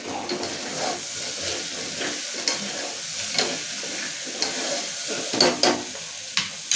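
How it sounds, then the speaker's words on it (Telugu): Tomatoes and tamarind fry in hot oil with a steady crackling sizzle, broken by frequent scraping stirs and a few sharp spatters, close and moderately loud, with no voices. "టమోటాలు అనేది నూనెలో బాగా మగ్గేంత వరకు మనం బాగా వేయించుకోవాలి"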